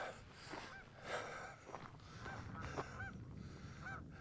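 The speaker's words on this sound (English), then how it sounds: "geese are honking" Geese honk in a series of separate calls at a lakeside point, faint and somewhat distant, spaced irregularly against quiet background noise.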